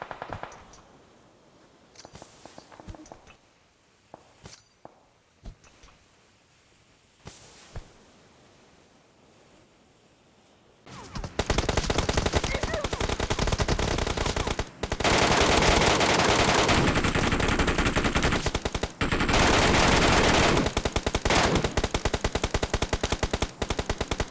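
Sustained automatic gunfire from PUBG Mobile, loud and dense, bursting in after about eleven seconds of quieter scattered sounds and continuing with brief gaps to the end.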